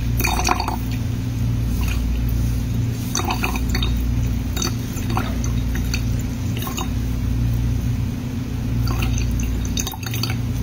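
Liquid is squeezed out of ginger for a homemade varicose-vein remedy. Scattered drips and squishes sound close by over a constant low electrical hum, with no speech.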